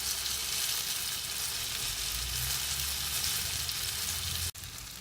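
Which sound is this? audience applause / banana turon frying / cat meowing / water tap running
banana turon frying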